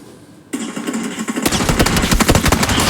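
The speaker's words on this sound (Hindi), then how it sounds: "मेरे ऊपर साइड में से गोली चलती है" Gunfire in PUBG on the Erangel map: after a short quiet moment a sharp burst starts, then rapid automatic shots rattle in a dense, loud, fast-repeating stream.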